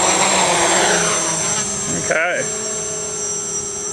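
The motors of a Box Quad STEM kit quadcopter under throttle, a steady high-pitched whine with a brief swooping change in pitch midway, and a short spoken word over it.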